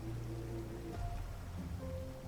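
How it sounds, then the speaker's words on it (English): Steady rain falling in the survival video game Raft, a constant soft hiss of drops with low rumbling water underneath, unbroken and moderately loud throughout. "I'm thankful that it's raining right now."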